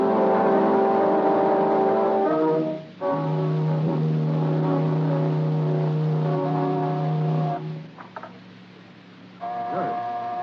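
A car engine idles and then pulls away in an old-time radio drama, with a steady hum that rises and shifts in pitch before cutting out, plus a brief restart near the end.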